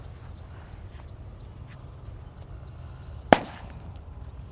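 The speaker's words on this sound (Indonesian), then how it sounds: "ada mercon gledek bosku yang akan kita nyalakan" A single sharp bang from a thunder-type firecracker cracks out once, loud and sudden against quiet outdoor background hiss, then fades quickly.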